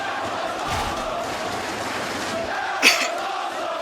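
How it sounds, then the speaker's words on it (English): Wrestling crowd at a live event in Rome, Italy cheering and shouting, a steady roar of many voices with a brief sharp impact-like burst near the end. "This crowd here in Rome, Italy, coming alive, electrified."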